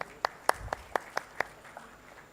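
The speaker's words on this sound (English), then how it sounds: "Can we have a huge round of applause for all of them?" Sparse audience applause at a live industry summit inauguration, a handful of separate sharp claps in an uneven rhythm, thin and fading rather than a full ovation.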